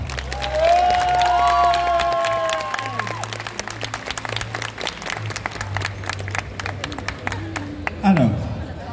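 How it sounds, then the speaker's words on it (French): A crowd at a Pokémon music concert at Japan Expo Centre 2023 applauds loudly, with steady clapping and some cheering over sustained tones from the stage. "les applaudir bien fort"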